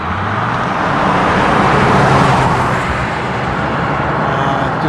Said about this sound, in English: here comes some cars